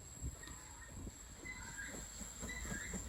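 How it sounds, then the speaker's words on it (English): Steam locomotive Goliath on the Paignton to Dartmouth line, a steady rumbling train noise with faint clanks and rail hiss continuing throughout at moderate distance, no voices. "Here is Goliath again, moving ready to haul its train back to Paignton."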